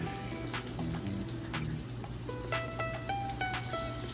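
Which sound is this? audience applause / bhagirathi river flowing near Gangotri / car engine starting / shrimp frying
shrimp frying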